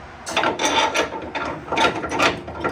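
A ratchet wrench clicks in quick rhythmic bursts, tightening a bolt on the Mustang II front end of a 1961 Mercury Comet, close and fairly loud with brief pauses between strokes.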